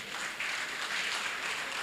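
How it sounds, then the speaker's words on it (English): A large crowd claps steadily throughout at a teachers' union principals' forum, a continuous dense wash of applause with no talk over it. "We can give him big round of applause again"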